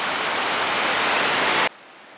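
Iguazu Falls, a broad system of waterfalls, gives off a dense, steady roar of rushing water that holds evenly, then cuts off abruptly near the end, with no voices.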